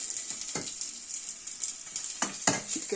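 Chicken being sautéed for fritada sizzles steadily in a pan, with several sharp clinks and scrapes of a utensil stirring the pieces.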